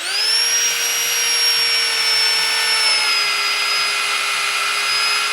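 A power drill whines steadily at a high pitch, running continuously without pause, close and loud, with no voices.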